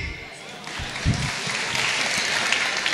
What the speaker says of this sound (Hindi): एक बार उनके लिए तालियां बजाएं